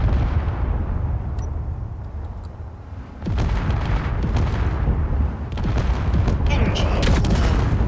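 Explosions in the video game Space Engineers as an attacking craft closes in and blows up below, heavy booming bursts with sharp cracks and crackling debris, loudest in the second half over a constant rumbling bed.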